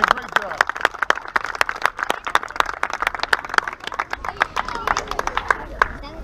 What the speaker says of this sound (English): first thing we want to do is give these boys a round of applause.